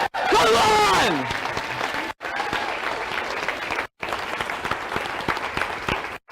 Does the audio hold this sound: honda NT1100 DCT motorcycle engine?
no